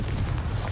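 A Confringo spell explosion in the Hogwarts Legacy video game gives a brief, rumbling blast with a dense, sustained roar over less than a second.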